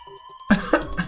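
Clover, a character in the game 999: Nine Hours, Nine Persons, Nine Doors, coughs hard in a few close, harsh bursts after a brief tonal chime, with no speech.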